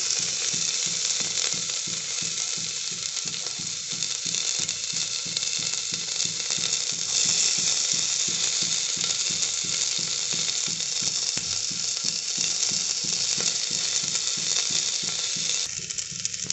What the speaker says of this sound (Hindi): उसे हम डालेंगे प्याज।